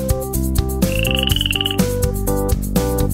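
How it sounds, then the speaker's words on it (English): A frog gives one rattling croak set into a cheerful children's song, heard over steady rhythmic beats and musical notes, with no talk. "frog."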